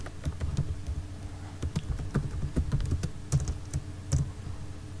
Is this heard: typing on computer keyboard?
yes